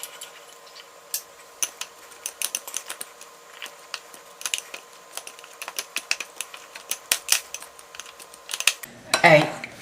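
Butter being cut into pastry with a pastry blender in a bowl for a lemon blueberry coffee cake, giving a run of light, quick clicking and scraping taps throughout, with a louder rustling burst near the end.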